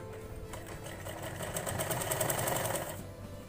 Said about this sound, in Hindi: अब हमें इस अस्तर के ऊपर ऐसे रखकर इस लाइन के ऊपर हमें सिलाई चलानी है